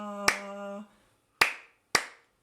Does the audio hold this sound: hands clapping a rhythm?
yes